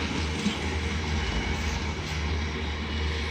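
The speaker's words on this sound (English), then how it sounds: "Off goes some GBRF 66s bound for Doncaster up decoy" Several GBRF Class 66 freight locomotives departing Doncaster on the East Coast Main Line, a steady low diesel rumble and rolling train noise, moderately distant and even throughout, no talk.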